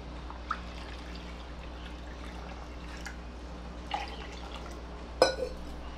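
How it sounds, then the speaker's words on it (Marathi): Two cups of water go into a gram-flour khandvi batter in a home kitchen, a soft, quiet trickle and drip with a few small splashes and a brief clink near the end. "2 कप पाणी घेणार आहे."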